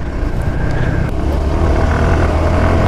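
A vehicle drives along a broken, potholed village road, its engine a steady, loud rumble that holds throughout with rough low-end jolts and no talk over it.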